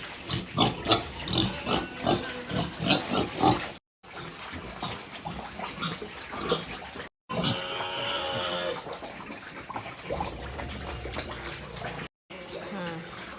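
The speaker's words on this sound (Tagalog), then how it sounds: "magpapakain na ako ng mga baboy ko ngayon" Pigs grunting and squealing at feeding time on a hot, busy farm, with repeated rhythmic grunts close by, sloshing water in places and people talking intermittently.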